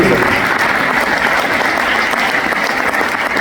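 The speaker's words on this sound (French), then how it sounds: "On peut les applaudir." An audience at an award ceremony applauds, loud and close, a thick sustained burst of clapping that lasts the whole stretch.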